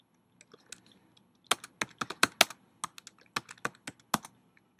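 Someone types on a computer keyboard while playing interactive fiction, with quiet, irregular clusters of key clicks and a few louder presses standing alone in a quiet room.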